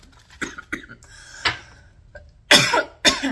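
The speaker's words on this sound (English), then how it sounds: "And I'm coughing." Several short, sharp coughs close by, a few scattered singles followed by a louder pair near the end.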